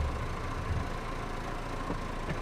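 A tractor engine idles steadily in Farming Simulator 22, a low, continuous rumble with a faint whine running over it, and no voices are heard.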